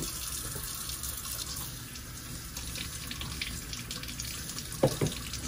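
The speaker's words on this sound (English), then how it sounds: "It's just a nice little shower." Running water from a gentle shower rinses a Chinese crocodile lizard, a steady close hiss of spray and splashing with a couple of brief knocks near the end and no talking.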